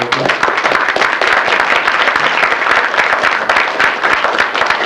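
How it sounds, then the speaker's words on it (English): Dense, loud applause fills a convention hall at BotCon 2004 as the audience welcomes the Dreamwave panel, the clapping continuous and close for nearly five seconds. "let's give them a round of applause"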